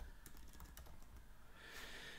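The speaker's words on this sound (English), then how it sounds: "I can start typing." Typing on a computer keyboard during a note-taking app tutorial: a quick run of soft, close key clicks in an uneven rhythm, faint and alone.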